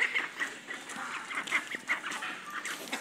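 Aseel rooster and ducks in a backyard, a quiet scatter of short clucks and quacks over a few seconds, fairly distant with no talking.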